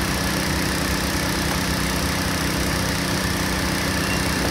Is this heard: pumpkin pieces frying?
no